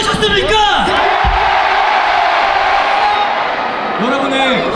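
A large crowd at a joint Korea–Yonsei university cheering event roars and shouts in unison, a loud, sustained mass of voices with rising and falling yells layered across the whole stretch.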